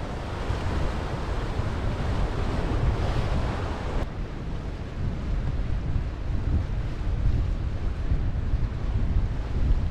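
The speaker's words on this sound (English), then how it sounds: "pretty amazing here all these waves" Mediterranean Sea surf roars steadily and broadly at an isolated lighthouse shore, waves washing in continuously with wind buffeting the microphone.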